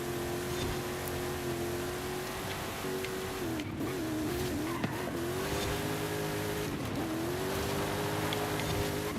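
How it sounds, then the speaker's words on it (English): Rally car in the Forza video game held at a steady, droning engine pitch that dips and recovers twice as the car is thrown through corners with the handbrake, with faint tire squeal mixed in. "I'm grabbing the E-brake to kind of get around those corners."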